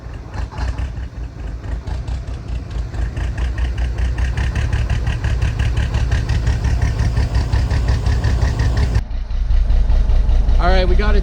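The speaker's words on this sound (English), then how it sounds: "All right, we got it started. She's shaking a little." The diesel engine of a 1984 Kenworth C500 truck runs just after its first start in 20 years, a loud, close, rough idle with rapid knocking pulses and a slight shake, steady throughout.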